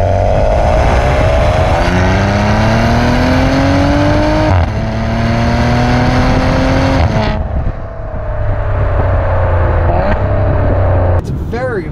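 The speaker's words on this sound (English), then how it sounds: "I'm gonna do a nice acceleration run here." A 2018 Maserati Ghibli accelerates hard, its engine note climbing through gears in rising sweeps with brief dips at each shift, loud and close, then easing off toward the end.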